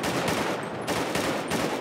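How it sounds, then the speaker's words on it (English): Rapid gunfire in GTA 5 during a police shootout, dense overlapping bursts of automatic and single shots crackling continuously at close range. "Open fire. Watch your crossfire. Suppressing fire."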